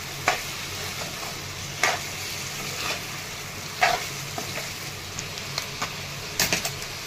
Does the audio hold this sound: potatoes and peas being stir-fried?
yes